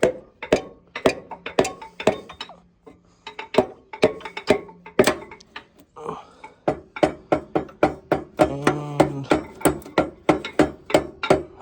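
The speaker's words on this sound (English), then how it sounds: "Now he's going to take his hammer and use the handle," Repeated sharp knocks of a hammer handle striking a Farmall Regular tractor engine part during a rebuild, dozens of close, loud blows in an uneven rhythm, with a brief ringing tone partway through.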